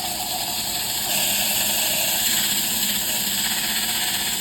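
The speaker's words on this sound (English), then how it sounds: "A stick with a slit in it, holding your sander, can get in there a little for you." A power sander running inside a turned zebra wood piece on a lathe, a steady close whirring hum that holds constant and grows slightly louder partway through.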